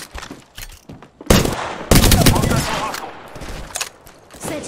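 Sharp bursts of automatic gunfire from an Apex Legends firefight, loud and close, arriving in irregular clusters between quieter stretches, with voice callouts in the background.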